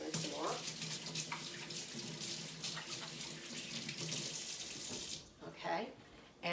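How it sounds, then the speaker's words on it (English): Tap water runs steadily into a sink while hands are washed beneath it, a continuous close splashing that briefly breaks and shifts near the end. "let me wash my hands real quick"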